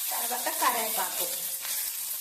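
Curry leaves hit hot oil for rasam, a bright crackling sizzle that flares up then settles into a steady hiss, close and continuous, with no speech.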